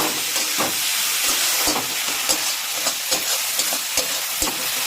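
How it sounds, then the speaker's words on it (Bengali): Tomatoes fry in oil in a pan for egg bhurji, giving a close, steady hiss with scattered crackles and pops that continues without pause. "এখানে পুরো দমে কিন্তু এখন কিন্তু ভাজা চলছে, আর তেল মোটামুটিভাবে ছাড়তে শুরু করেছে"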